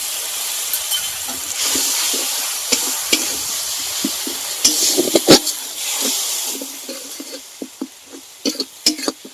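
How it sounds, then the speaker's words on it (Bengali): Spice paste stirred and fried in a pan for a Bengali shol fish kalia, a steady close sizzle and hiss broken by repeated scraping stirs and spatula knocks, with no voices. "দু থেকে 3 মিনিট মশলাটাকে ভালোভাবে কষিয়ে নিতে হবে।"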